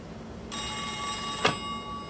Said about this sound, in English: It's Bloch's agent on the phone